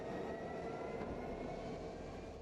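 A freight train running on the rail route from Madrid to Yiwu gives a steady low rumble of wagons rolling past, continuous and fairly close, with no talking.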